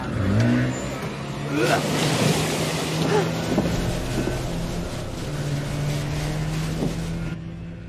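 A vehicle engine in the video game The Devil in Me, a steady droning rumble with a rushing, wind-like wash that continues throughout.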